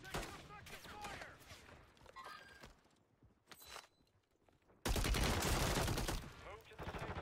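Video game gunfire in Call of Duty Warzone on Rebirth Island: scattered shots and footsteps give way to a loud, dense burst of rapid fire near the end, with a voice heard briefly.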